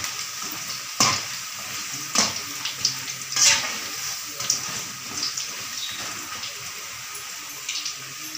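Ragi flour dough frying in a pan and being turned over, a steady close sizzle broken by several louder scraping stirs and clatters, with no voices.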